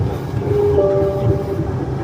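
Steady rumbling hum of a Namma Metro train in Bengaluru nearing a station, heard from inside the car with a faint tonal whine.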